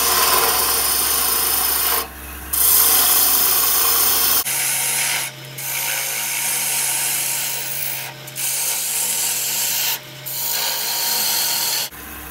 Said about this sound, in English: we're going to crank the lathe back on, and we're going to hog out a whole bunch of wood